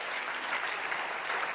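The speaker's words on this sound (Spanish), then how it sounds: "¿Le puedo dar un aplauso al Rey todavía?" Congregation applauding during a church service, a brief, even wash of many hands clapping together, steady and fairly soft.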